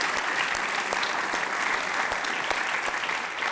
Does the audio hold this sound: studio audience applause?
yes